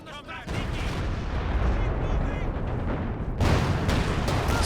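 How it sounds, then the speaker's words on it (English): B4 howitzer artillery barrage at max range in a Company of Heroes 2 match, heavy booming impacts rolling into a sustained rumble, with a second loud crash near the end, under a commentator's voice. "Now got the B4 slamming down."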